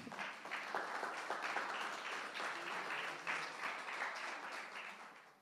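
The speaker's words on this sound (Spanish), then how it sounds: "un aplauso al Señor" A church congregation applauds during a Spanish-language sermon, a steady, moderately faint wash of clapping lasting several seconds and tapering off at the end.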